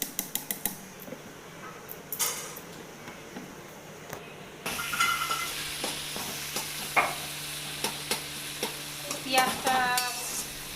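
A cumin, ginger and chili paste hits hot oil in a wok with browned onion, bursting into a louder sizzle partway through, while a spoon scrapes and clanks against the metal in repeated close strokes.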